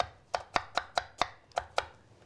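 A knife chops through apples on a cutting board in eight sharp, evenly spaced cuts, each striking the board crisply and close up, with no talking.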